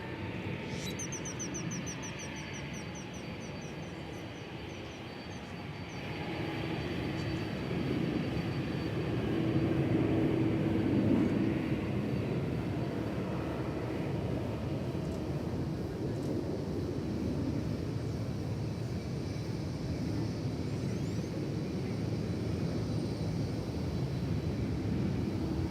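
A Lufthansa airliner departs at DFW Airport, its distant jet roar swelling gradually into a steady, broad rumble that holds throughout, heard from a spotting area with faint outdoor background.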